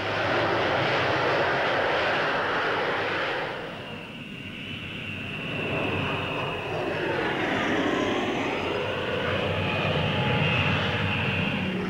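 Avro Vulcan bomber flying over the 1955 Farnborough Air Show, a steady loud jet roar that dips briefly, then swells again as the aircraft passes.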